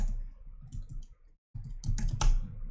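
Clicking keys on a computer keyboard, a quick run of close taps, a short pause of silence, then denser louder typing, with no talking.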